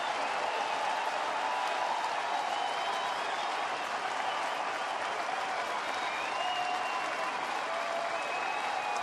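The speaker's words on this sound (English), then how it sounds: "Crowd is feeling it." A baseball stadium crowd of some 27,000 at a Cleveland at Detroit game, sustained loud applause and cheering washing over the ballpark with a bases-loaded tension, dense and continuous without a break.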